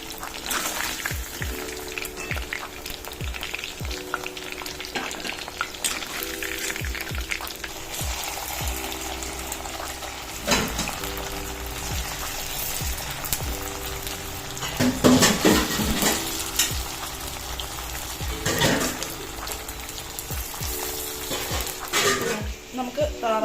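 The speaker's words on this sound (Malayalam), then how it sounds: "അതുപോലെ തന്നെ ബാക്കിയുള്ള ചിക്കനും വറുത്തെടുക്കാം" Chicken pieces frying in hot oil, a continuous close sizzle with occasional utensil clinks and stirring, a brief louder clatter midway.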